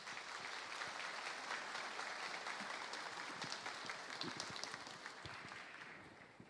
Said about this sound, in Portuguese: Vamos recebê-lo com a salva de palmas.